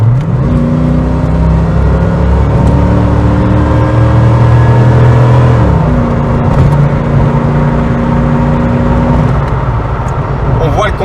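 A Chevrolet Corvette C4 with a 5.7L V8 accelerates hard, its engine note rising steadily through the revs before a brief dip as it shifts and climbs again, loud and close from inside the car.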